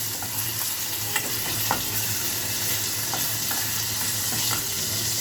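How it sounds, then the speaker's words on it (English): Ginger and garlic sizzle steadily in hot oil, with a continuous close frying hiss and occasional light clicks of a utensil stirring through the pan. "I'm adding my ginger and garlic in the oil so it can infuse very well in the oil."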